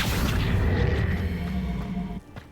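An Accio summoning spell cast in Hogwarts Legacy gives a loud, sustained magical whoosh with a deep rumbling boom and a ringing tone, then cuts off abruptly near the end.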